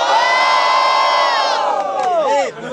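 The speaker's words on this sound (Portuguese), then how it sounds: "Quem gostou das rimas do Eneli do Pre, faz muito barulho" A crowd at a Brazilian student rap battle cheers, whoops and shouts loudly and continuously, with high sustained yells that break up and fade near the end.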